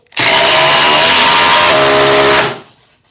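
A Dewalt FlexVolt tool on a 9 amp-hour battery drives a 12-inch GRK screw into wood, a loud steady high-pitched whine for about two seconds that sags as it bogs down, then cuts out.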